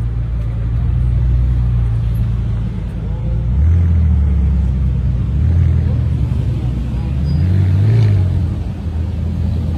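A McLaren car driving past with a low engine rumble that swells and fades in waves, heard at moderate distance while someone talks over it.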